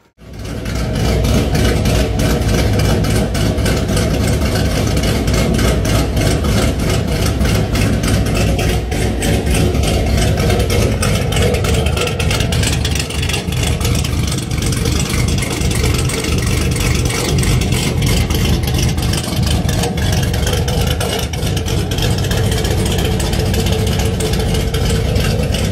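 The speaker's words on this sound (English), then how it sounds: "LS3 with a Night Fury cam, headers on it, she sounded mean." Loud, steady roar of a 2013 Chevrolet Camaro SS with an LS3 V8, Night Fury cam and headers, running close to the microphone for the whole stretch with a deep, rumbling exhaust and no talking.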